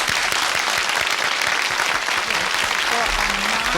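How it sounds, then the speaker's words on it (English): A 1970s television studio audience claps in a loud, sustained burst of dense applause. A voice briefly breaks through near the end. "That's what we needed, some more applause."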